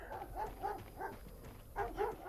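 Several dogs barking in repeated bursts inside the horror video game Paranormal, a steady rhythm of woofs at moderate loudness with a short lull before a final louder cluster.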